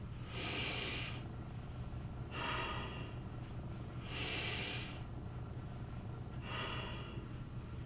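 Slow, deep breaths during a yoga breathing exercise, four long airy inhalations and exhalations spaced roughly two seconds apart, close and quiet with no talking.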